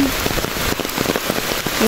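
Heavy storm rain pours down steadily as a loud, dense, close hiss of drops hitting surfaces, with no break for the whole moment.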